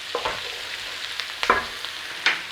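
Onions and garlic sizzle in a single pan for a sausage and bean stew, with steady frying crackle and a few sharper scrapes and clatters as they are stirred, close up and with no talking.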